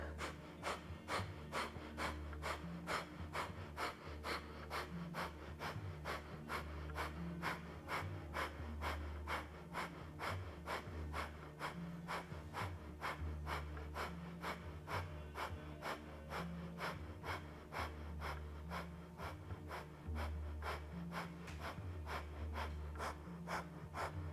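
Rapid kundalini yoga breath of fire, sharp rhythmic nasal exhalations pumping at a steady fast pace for the whole stretch, close and loud over a low droning music bed, with no talking.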